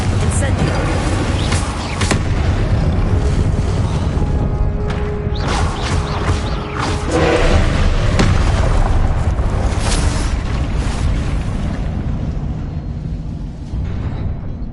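A Confringo spell explosion in the Hogwarts Legacy video game goes off as a loud, dense boom within a continuous wash of game effects and rumble, with bursts and crashes layered over the top while a voice calls out spell names.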